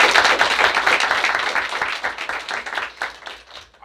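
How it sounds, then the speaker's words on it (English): A school board meeting crowd applauds honored students, dense clapping at fairly close range that swells and then thins toward the end, with a few voices mixed in. "How about a round of applause?"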